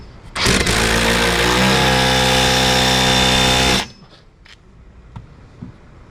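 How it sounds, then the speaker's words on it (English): A power tool runs loud and steady for about three and a half seconds, fastening threads while installing a GRP harness bar in a Lotus Emira, then stops, leaving faint clicks and handling sounds. "Make sure you get these threads started before using any type of power tool."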